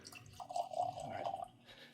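Foursquare rum is poured generously from a cask sample and spills, a faint, brief trickle and splash of liquid with a few soft drips, heard alone and up close.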